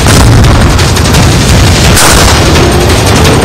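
A breaching explosive blasts open a window during a commando counter-insurgency operation: a very loud, close, distorted roar fills the whole stretch, with a sharper jolt midway and no voices.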